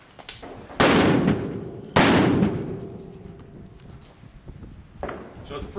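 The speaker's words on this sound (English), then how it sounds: "9 individual bangs, they go off at no cadence, sounds like gunfire" A nine-bang non-lethal distraction device going off, sharp loud bangs at irregular spacing like gunfire, each blast decaying with a rumbling tail, heard close up.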